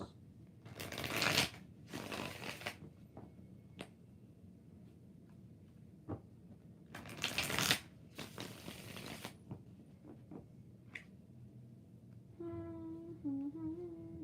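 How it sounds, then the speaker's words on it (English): Tarot cards are shuffled by hand in several crisp riffling bursts separated by quiet pauses, close and fairly soft, with a few faint taps between them. "4 shuffles."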